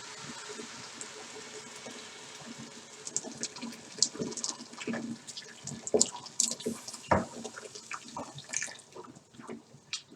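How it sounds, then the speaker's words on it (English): Water pours into a pot of yellow split peas with dried lemon for Gheymeh stew, a running, splashing fill with uneven bursts that grow louder toward the middle, close by with no talk. "cover it with a lot of water."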